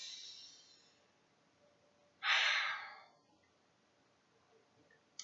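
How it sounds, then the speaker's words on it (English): A single deep breath drawn in during a guided relaxation and tapping exercise, a short breathy rush of air that rises and fades over about a second in an otherwise quiet room. "just take a deep breath"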